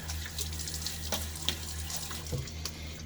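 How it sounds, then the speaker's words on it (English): Tap water runs steadily into a bathroom sink while water is splashed onto a face before a shave, with a constant rushing stream and soft irregular splashes close by. "I'm gonna throw some water on my face."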